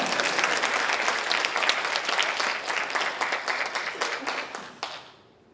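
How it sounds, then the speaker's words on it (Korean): A congregation at a Baptist church testimony meeting applauds, with dense clapping that holds briefly, thins into scattered claps and fades out at the end. "이럴 때 박수를 쳐도 괜찮죠."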